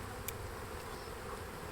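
A honeybee swarm being settled into a hive gives a faint, steady buzzing hum that fills the whole moment evenly, with no voices over it.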